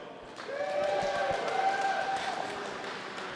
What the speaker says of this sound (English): So round of applause and some cheers if you are here cheering on Team Dunstone